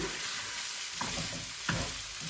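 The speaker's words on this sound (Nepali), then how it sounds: "मिडियम टु हाई हिटमा 4-5 मिनट यतिकै फ्राई गर्ने मजाले" Basmati rice fries in a pan over medium-high heat with a steady close sizzle, broken by a few sharp scraping stirs of a spoon against the pan.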